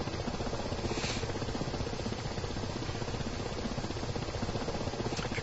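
Ka-50 helicopter in the DCS flight simulator, a steady, loud rotor and engine drone with rapid pulsing chop running unbroken throughout.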